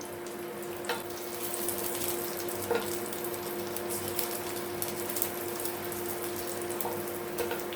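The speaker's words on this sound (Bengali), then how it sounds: "মিডিয়াম টু লো ফ্লেমে গ্যাসটা করে আপনারা কিউবগুলো ভাজবেন।" Cubes fry in oil over a medium-low gas flame for chilli cabbage, a soft, even, continuous sizzle with faint occasional clinks, fairly quiet and without voices.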